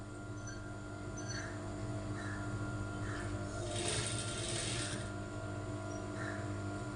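A sewing machine runs steadily while stitching a quarter-inch seam along the neck edge of a blouse, a continuous close mechanical whir with a brief rise in the middle.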